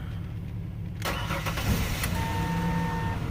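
A 2002 Ford Explorer with a no-crank, no-start fault fires up after quiet, its engine catching abruptly and settling into a steady, close idle that runs on to the end.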